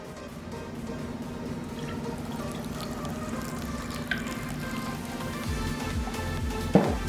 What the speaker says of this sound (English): We're gonna add 1 ounce of Kahlua